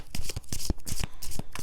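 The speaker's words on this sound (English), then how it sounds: "Let's just pull a couple more cards on that." Tarot cards are shuffled and pulled by hand close to the listener, making a quick series of crisp riffling snaps and soft slaps with short pauses between them.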